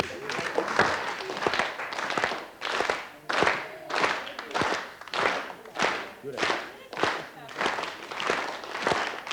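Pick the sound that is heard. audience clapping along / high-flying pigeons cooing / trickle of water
audience clapping along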